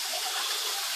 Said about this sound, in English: just filling up a bit more of the tank with tap water